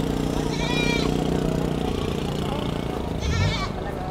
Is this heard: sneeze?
no